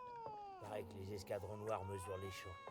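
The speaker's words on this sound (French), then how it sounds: "Ah, c'est un chat." A cat in The Witcher 3 meows in long, drawn-out, wavering cries close by, under a voice speaking French.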